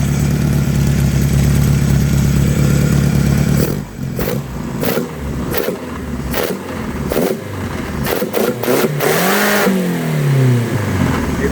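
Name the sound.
car engine revving with rebuilt Dellorto DHLA 45 carburettors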